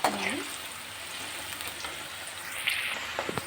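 Onions frying in oil for chicken biryani give a soft, steady sizzle under a few sharp clinks and scrapes of a utensil against the pan.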